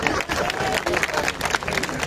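Applause from the audience at a BJP public rally for a ward candidate in Dwarka, Delhi, a dense steady wash of clapping and crowd noise lasting the whole stretch, with voices mixed in.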